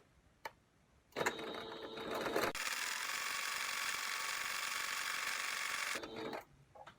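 A sewing machine runs a zigzag stitch through stretchy fabric in contrasting thread, a brief click, then a short burst of stitching, a pause, and a long steady whirring run before it stops and clicks again.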